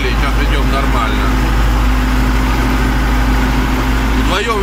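An MTZ tractor engine drones loud and steady while plowing a field, a continuous low rumble that fills the whole stretch with no break.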